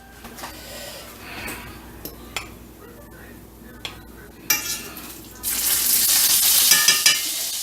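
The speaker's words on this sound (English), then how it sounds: "Now, to this bacon grease, I'm going to add some butter." Butter goes into hot bacon grease in a cast iron pan, first with a few scattered clicks and pops, then bursting into a loud, steady hissing sizzle that fills the last couple of seconds.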